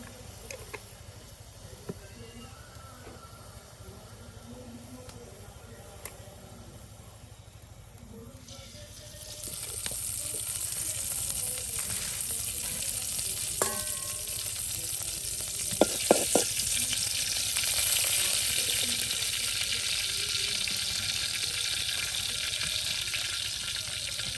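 Fish and spices fry together in a pan for a gourd curry, a quiet background that swells into a loud, steady sizzle partway through, with a few sharp clinks.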